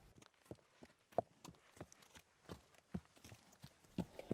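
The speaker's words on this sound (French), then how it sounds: "Catacloup, catacloup. Écoute. Le cheval blanc apparaît tranquillement." A white horse's hooves clip-clop at an unhurried walking pace, a steady run of moderately close, distinct hoof strikes with no talking.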